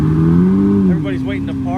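A Nissan GTR engine at an exotic supercar rally and show, a loud close low drone that drops slightly in pitch, with voices talking over it.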